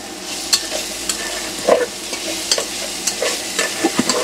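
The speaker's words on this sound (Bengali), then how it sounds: "এই যে পেঁয়াজ কুচি দেওয়া" Chopped onion frying in hot oil in a pot, a steady close sizzle punctuated by regular sharp clinks and scrapes of a spoon stirring, with no voices.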